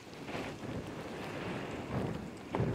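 Wind gusting outdoors on a hiking trail, a faint rushing buffet that swells and fades in soft waves with no voices.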